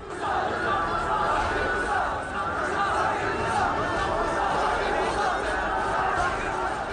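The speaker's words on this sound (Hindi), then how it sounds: "भीड़ आतंकियों के समर्थन में नारे लगा रही थी।" An angry crowd in Kashmir chants slogans in support of militants, a dense, steady roar of many voices at a distance, continuous and unbroken throughout.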